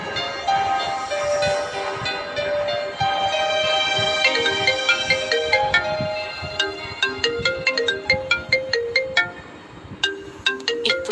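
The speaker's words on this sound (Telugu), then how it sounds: "ఇప్పుడు ఫోన్ చేస్తుందేంటి?" A mobile phone ringtone plays for an incoming call, a melodic tune that turns into rapid repeated bright chimes toward the end, loud and close with no talking over it.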